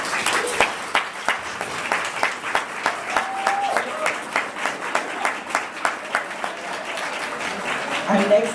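An audience at a literary symposium applauds for an author with steady, sustained clapping in a room, with faint voices mixed in.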